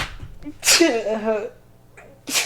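A forceful sneeze with a sharp burst and a voiced, wavering tail, followed by another breathy burst at the end, close to the listener.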